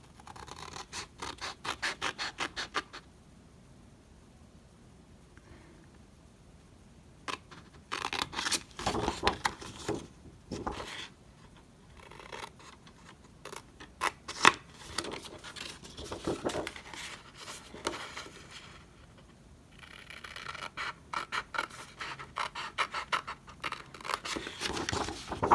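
Scissors cutting cardstock along score lines while making a slimline craft card, heard as close, intermittent snipping and scratchy paper rustle in bursts, with quieter pauses between cuts.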